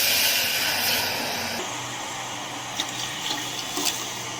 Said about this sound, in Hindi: अब इसमें हम दूध डालेंगे। ये 500 ml